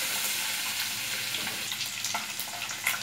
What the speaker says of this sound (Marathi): हे ठेचलेलं लसूण आहे. आपण चांगलं तळून घ्यायचं आहे तेलामध्ये.